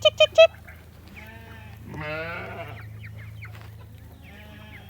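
Young bantam chickens in a coop, with three sharp squawks at the start, then a wavering bleat-like call and softer clucks over a low steady hum.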